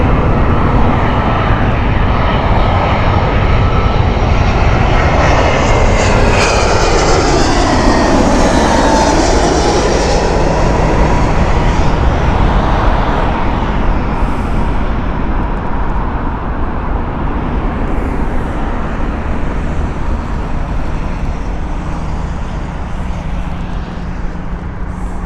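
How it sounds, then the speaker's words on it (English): A British Airways Airbus A319 passes at Heathrow with a loud, sustained jet roar. A pitch sweep marks the flyby before it slowly fades into distance. "Glasgow flights, British Airways here, Airbus A320. Oh, A319, sorry."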